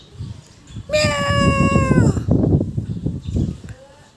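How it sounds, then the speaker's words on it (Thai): A black cat with golden eyes lets out a single drawn-out, loud meow near the start, with low murmuring and handling noise around it that continues after the call fades. "Black cat แมวสีดำ"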